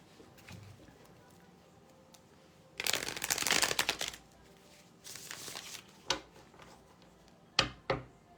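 A Tarot of Wonderland card deck being shuffled, giving a loud riffling burst followed by shorter flicks and a few sharp card snaps, close up with no talking.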